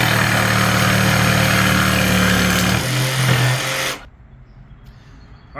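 A small-blade power saw buzzes loudly through laminate countertop while clearing a sink opening, steady and close, its pitch shifting before the motor abruptly cuts off into near silence.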